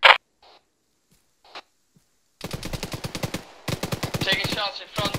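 Rapid bursts of automatic gunfire in a night-operations military video game, a few faint isolated shots first, then sustained loud volleys with a brief pause between them.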